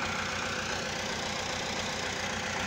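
A tractor engine idles in a steady, loud, low chugging rhythm that holds unbroken throughout, with no voices over it.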